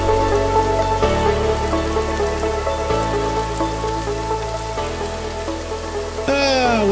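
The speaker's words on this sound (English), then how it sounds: "What a glorious rainy day." Steady rain falls in the survival game Sons Of The Forest, a continuous patter beneath layered game music with sustained chords that shift every couple of seconds.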